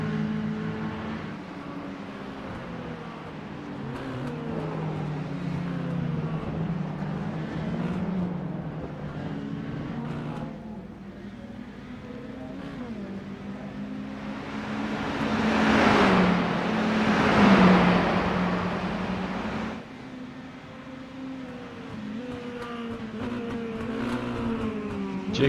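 Race cars in a racing video game drone along the track, engine tones rising and falling as they accelerate, with a louder surge of revving and passing cars midway through.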